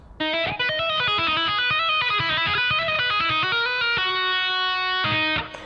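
Electric guitar lick with hammer-ons, taps and slides, played alone with a bright, slightly driven tone; quick legato notes flow smoothly, with a sustained held note before a final run, close and loud.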